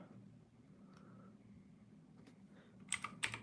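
Typing on a computer keyboard during a telescope astrophotography session: a few faint, scattered key taps over a quiet room hum, then a quick cluster of sharper clicks at the end.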